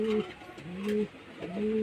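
Household pigeons coo close by in three clear, evenly spaced low calls, each a steady drawn-out murmur with faint background noise between them.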